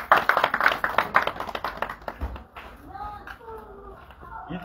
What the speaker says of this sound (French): je demande qu'on l'applaudisse